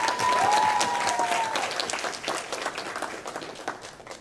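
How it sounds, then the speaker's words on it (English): Audience applause at a Bharatanatyam Arangetram, a burst of clapping from a crowded hall that swells quickly and then slowly thins out over several seconds. "one more round of applause for Sadhanaa and Sahanna"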